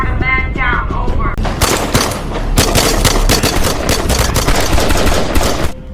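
Gunfire in a war film as a soldier is hit from the left flank: dense, loud bursts of automatic weapons fire hammering continuously for several seconds after a brief shouted line.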